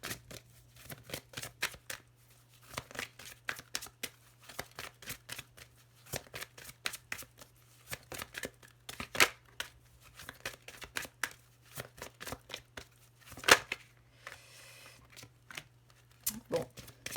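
Tarot cards are shuffled and cut by hand in a quiet room, with dense rapid riffling and slapping bursts running throughout and a steady low hum underneath.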